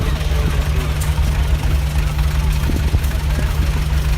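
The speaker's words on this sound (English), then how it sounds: "a Minneapolis Moline Model U is our next one" A 1950 Minneapolis Moline Model U tractor in harvest orange rolls past in a summer tractor parade. Its engine idles with a steady, loud, low chugging while a voice talks over it.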